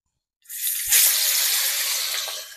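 Four fish coated in salt and turmeric dropped into hot oil for a Gondho Raj fish curry, breaking into a sudden loud, hissing sizzle that continues steadily after a silent start.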